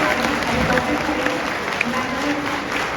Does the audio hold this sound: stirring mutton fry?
no